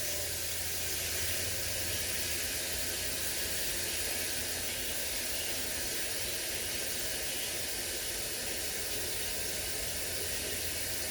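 Cold water from a kitchen tap pours into a cooking pot in a steady, even rush that carries on unbroken for several seconds, close and moderately loud, without any talking.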